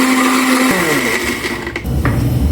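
A kitchen blender grinds spices with cooking oil and water, a loud whirring motor that drops in pitch as the load thickens, then stutters and pulses briefly near the end.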